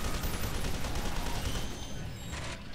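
An EMP grenade detonates in the shooter game F.E.A.R. 2, a dense, sustained crackling burst of noise that holds loud across the whole moment before easing slightly near the end.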